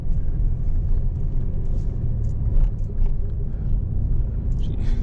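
A truck driving along tight town streets, heard from inside the cab as a steady low engine rumble and road noise throughout, with no talk.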